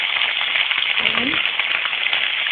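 Carrots, potatoes and beans frying in a pan for vegetable rice give a steady, close, continuous sizzle that barely varies in level, with a faint voice in the background.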